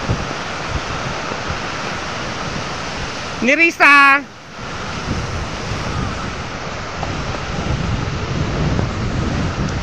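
Strong waves churning at a river resort, a loud continuous roaring wash with wind buffeting the microphone, briefly interrupted by a short spoken phrase.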